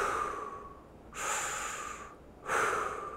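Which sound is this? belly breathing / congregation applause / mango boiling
belly breathing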